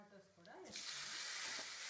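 Tomatoes hit a hot pan with crushed garlic and curry leaves and break into a sudden loud, hissing sizzle that holds steady, just after a short stretch of a voice speaking.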